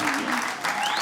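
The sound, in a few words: audience applause at comedy show about Seattle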